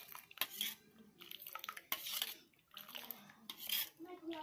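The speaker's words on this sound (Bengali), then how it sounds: "দুধটা একটু হাতা দিয়ে নেড়ে নেড়ে আমি ঠান্ডা করে নেব" A ladle stirs hot milk in a pot to cool it, producing repeated metallic clinks and scrapes against the pot with soft liquid swishes in between, quiet and close, no speech.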